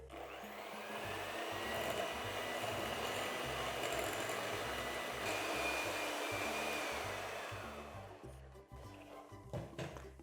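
Electric hand mixer whirring steadily as it beats light brown sugar and caster sugar together for cookie dough, a loud continuous motor drone that runs for about eight seconds before stopping, followed by a few bumps.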